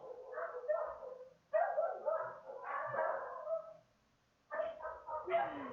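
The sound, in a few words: dogs barking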